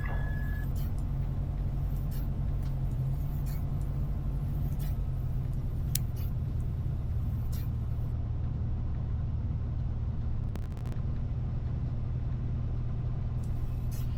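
Light aircraft taxiing on the ground at night, heard from inside the cockpit as a steady, loud low engine drone with a constant rumble throughout, a few faint clicks over the top.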